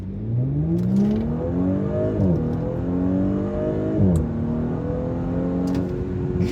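A fast car with a 350-horsepower engine accelerates hard in sport mode, its engine note climbing steadily through two upshifts, loud and close throughout with no talking.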